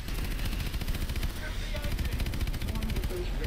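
Rapid automatic gunfire in Call of Duty: Advanced Warfare pounds in dense, even bursts throughout, loud and sustained, with a faint voice underneath.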